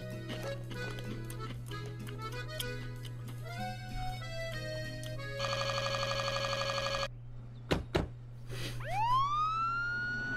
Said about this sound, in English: The sound of an ambulance is claimed.